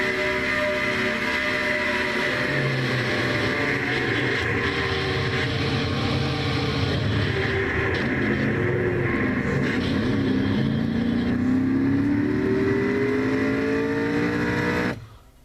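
Race car engine heard from the in-car camera of car number 94 in a Castrol GTX Cup race, a steady loud high-revving drone with rising and falling pitch through gear changes, cutting off abruptly at the end.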